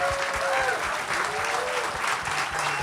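A conference crowd applauds, dense continuous clapping throughout with a few voices and whistles rising above it.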